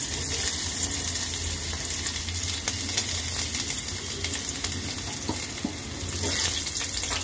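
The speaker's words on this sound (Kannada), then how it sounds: "ಇವಾಗ ನಾನು ಚಾಪ್ಡ್ ಆನಿಯನ್ಸ್ ಹಾಕ್ತಾ ಇದ್ದೀನಿ" Chopped onions fry in heated oil with a steady, dense sizzle and crackle that runs throughout, close and fairly loud, with faint clinks and no talking.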